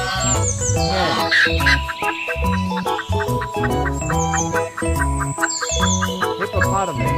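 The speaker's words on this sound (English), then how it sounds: "Hen." A farm hen clucks in short repeated calls over a steady musical backing, fairly loud and close throughout.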